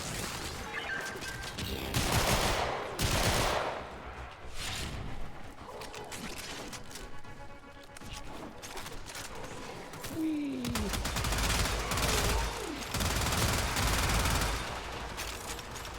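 Rapid weapon gunfire in the video game Warframe, long dense bursts of shots coming in waves with brief lulls between them, loud and close.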